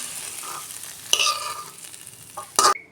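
Small-fish chochchori curry is scraped out of the cooking pan, with faint sizzling and a few sharp clatters and scrapes of the utensil against the metal.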